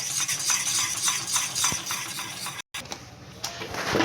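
Gram flour pithla is stirred in a pan on a low flame, giving a steady scraping, ticking rhythm of spoon against metal with a soft sizzle, close and continuous, with one brief dropout.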